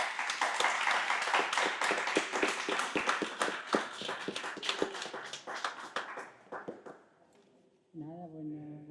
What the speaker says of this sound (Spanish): les voy a pedir que la recibamos con un aplauso muy fuerte a ella y a Víctor Ramírez